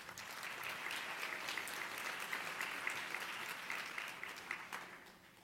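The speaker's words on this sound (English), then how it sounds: "Now you can clap" An audience at a gala convention dinner breaks into sustained applause, a dense, even wash of clapping that holds for several seconds before tapering off.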